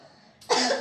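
A child with a cold gives a single short, harsh cough, close and loud after a brief quiet moment.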